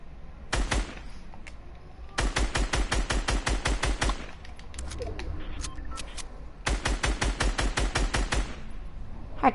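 Rapid automatic gunfire in the video game Fortnite comes in three long bursts of dozens of sharp, evenly spaced shots, with brief quieter gaps between them.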